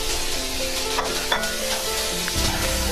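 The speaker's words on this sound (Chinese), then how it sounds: "再放入黄瓜和洋葱" Cucumber and onion hit a hot oiled wok with spicy hot-pot seasoning and cooked ingredients, giving a steady close sizzle with scraping stir sounds throughout.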